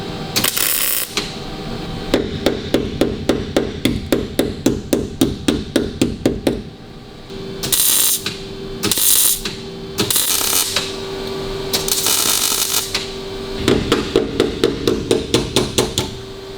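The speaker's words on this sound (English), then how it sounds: "Why do you hammer? Is it to get it into shape?" Hammer blows on sheet metal during rust repair on a classic Saab, first in a fast steady run of sharp metallic strikes, then a pause with a few scraping or shaping noises, and another quick burst of close, loud taps at the end.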